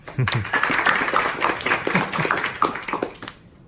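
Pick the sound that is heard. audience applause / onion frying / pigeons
audience applause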